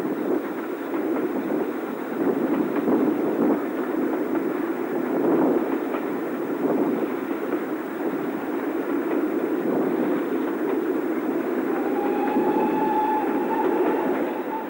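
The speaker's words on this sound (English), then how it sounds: "Climbing the 1 in 50 incline behind Standard Class 5 No. 73092" Riding in a train climbing a 1 in 50 incline behind Standard Class 5 steam locomotive No. 73092, a steady loud rumble of carriage wheels and rails runs throughout, with faint squeals near the end and no voices.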